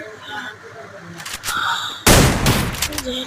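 Rapid bursts of gunfire from a shooting video game match, scattered shots early then a loud dense volley in the second half, with a voice talking over the opening.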